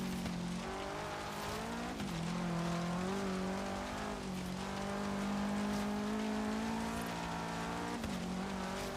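Race cars in the Forza video game, a continuous high engine drone that rises and dips in pitch through gear shifts and corners, steady and fairly loud with no talk.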